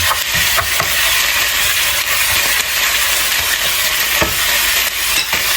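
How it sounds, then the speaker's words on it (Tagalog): Half a kilo of pork hits a hot pan of sautéed onion and garlic, sizzling loudly and steadily, with occasional stirring scrapes and no talking. "Dahil okay na nga po yung ating sibuyas at bawang, ilalagay na po natin yung ating half kilo na pork"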